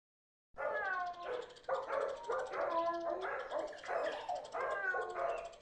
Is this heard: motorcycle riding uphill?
no